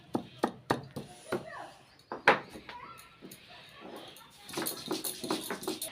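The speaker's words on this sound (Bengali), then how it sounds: "তো চলো থেতো করে নিই আদাগুলো।" Ginger being crushed for a Bengali gourd and mustard curry, with sharp, irregular thumping pounds near the microphone that grow into a faster, busier pounding toward the end.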